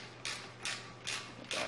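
A ratchet snugs up wheel bearing nuts with four evenly spaced, rasping clicking strokes, close and fairly quiet.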